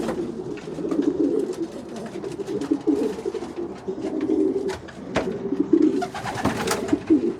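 Racing pigeons coo steadily in a loft in a low, murmuring chorus, with scattered wing flutters and soft knocks around them, close by and continuous.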